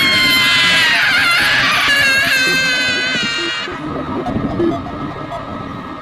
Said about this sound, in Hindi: श्वेता की चीख उन पहाड़ियों में गूंज